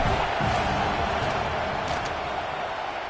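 Stadium crowd noise at a Kent State versus Ohio State college football game during a field goal attempt, a loud, sustained roar of a large crowd filling the whole clip without letup.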